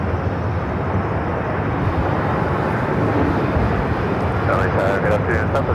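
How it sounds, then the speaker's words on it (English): Southwest Airlines Boeing 737-700 landing at LAX, a continuous loud broadband jet roar that stays steady throughout, with faint radio chatter near the end. "Followed by Southwest Airlines, flight 4340, coming in from San Antonio, 737-700."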